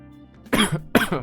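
Two harsh coughs, the first around the half-second mark and a second shortly after, loud and close with a short pause between them.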